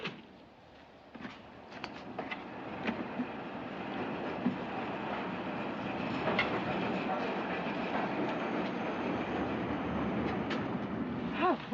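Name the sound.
train arriving at a station platform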